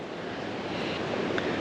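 Rushing water from rapids on the Kaituna River, a steady broadband roar with no breaks, moderately loud and heard alone.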